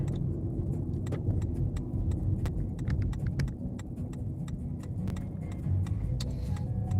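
A car merges onto a freeway, its steady road and engine rumble running throughout, with small clicks and jingles over the drone inside the cabin.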